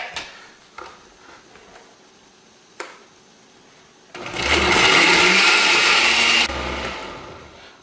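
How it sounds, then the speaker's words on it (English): A kitchen blender purees tomatoes with chicken stock for a chile relleno sauce, a loud steady whir starting midway after a few quiet knocks, then easing slightly toward the end. "I just want enough chicken stock to blend up these tomatoes well."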